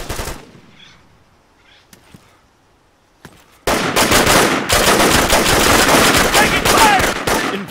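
AK rifle fire in the military shooter game Arma 3: after a quiet stretch with a few isolated shots, loud sustained automatic bursts erupt and continue close by, dense and rapid to the end.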